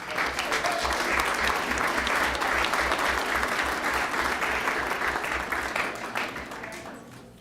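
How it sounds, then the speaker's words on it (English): Sustained audience applause at a school district governing board meeting, a dense, even roar of many hands clapping that holds steady for several seconds and slowly eases toward the end, with a low rhythmic hum underneath. "Again, a round of applause for our"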